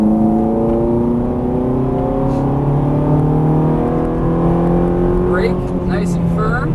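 A Ferrari 430 engine pulls hard at full throttle on a race track, its loud, steady note climbing in pitch over several seconds, with a voice talking over it.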